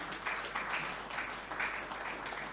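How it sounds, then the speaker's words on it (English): Audience applauding at a plenary session of a transport forum on sustainable roads and logistics development, steady scattered clapping from a crowd at moderate distance, fairly faint, continuing evenly without voices. "Let's give Mr. Musa a big round of applause, please"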